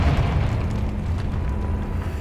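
A Confringo fire spell exploding in Hogwarts Legacy, a deep rumbling boom that sustains loudly and rolls on through the whole moment.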